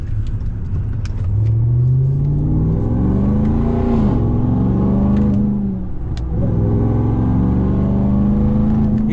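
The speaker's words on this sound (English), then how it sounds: "You hear that supercharger" A supercharged RAM TRX pickup truck's engine revs hard, rising through gears in loud, close climbing whines with short dips between shifts, heard from inside the cab.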